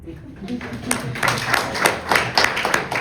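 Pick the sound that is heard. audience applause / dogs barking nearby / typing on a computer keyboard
audience applause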